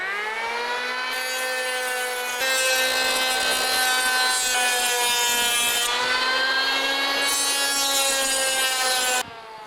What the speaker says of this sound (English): I'll take out the heavier chunk of the wood with this planer